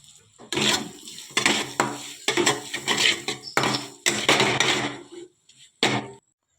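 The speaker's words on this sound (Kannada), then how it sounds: "ಹಾಕಿ ಸರಿಯಾಗಿ ತಿರ್ಸ್ಕೊಂಬಂಬ್ರಿ" Fried egg being stirred with garam masala in a pan, a quick run of close scraping and clattering strokes of a utensil against metal, loud and irregular, with brief pauses and a final knock.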